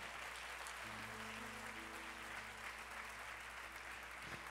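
A church congregation applauds during a worship service, giving a faint, steady wash of clapping with a low sustained hum underneath, heard at a distance and without any clear break.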